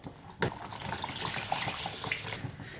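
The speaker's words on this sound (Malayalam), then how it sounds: "ആവശ്യത്തിന് ചൂടുവെള്ളം ഒഴിച്ച് കൊടുക്കാം" Hot water is poured into a thick dal curry, giving a close, splashing gush of liquid that starts suddenly and runs steadily for a couple of seconds.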